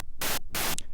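Harsh bursts of distorted white noise from the noise operator of an FM8 synthesizer with its saturator distortion turned up, three loud static blasts in quick succession separated by brief gaps.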